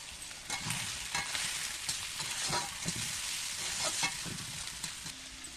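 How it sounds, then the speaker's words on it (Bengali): Chicken being stirred and sautéed in a pan for a Bengali chicken kanti dish: a continuous soft sizzle with repeated scraping stirs of a spatula, close but moderate in level, no voices. "এটা ভালো করে কষে নিতে হবে।"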